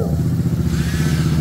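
A 190cc motorcycle engine fitted with a PCX connecting rod turns over and runs with a rough, pulsing idle and a rising whine, close and loud throughout the short stretch.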